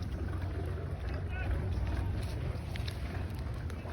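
Tour boats at Demre marina in Turkey give a steady low rumble of motors and lapping water, with wind noise and faint voices throughout.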